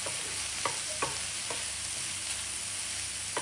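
Beans being stirred and fried in a pan over a low flame, a steady soft sizzle running throughout with a few sharp scrapes of the spoon spaced about half a second apart.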